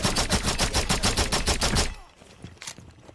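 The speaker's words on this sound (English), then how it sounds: "That is such a sweet sounding pistol" Rapid pistol gunshots in Rainbow Six Siege, a fast regular burst of about a dozen sharp, loud reports that stops abruptly, followed by quieter scattered game sounds.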